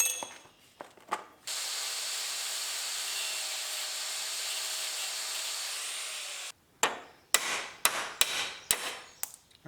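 Sharp metallic hammer strikes replacing teeth on a New Holland 45 sickle bar mower, a few taps, then a long steady hiss, then a quick run of close, loud blows.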